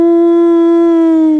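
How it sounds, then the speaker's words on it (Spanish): A dog howls in one loud, close, sustained note at a steady pitch that sags slightly at the end, alone and with no separate barks. "comienzan todos los perros a ladrar, pero es un ladrido, pero es algo tremendo, todos a la vez"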